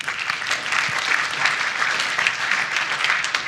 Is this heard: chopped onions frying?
no